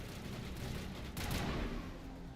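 Gunfire in the video game Mass Effect Legendary Edition, a dense rattle of rapid shots and bursts running continuously at moderate level, swelling briefly midway.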